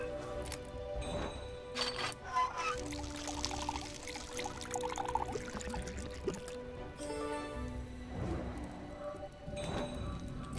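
Water pouring from a faucet in the Dark Parables puzzle game, a faint steady trickle with soft drips and splashy bursts under quiet musical tones.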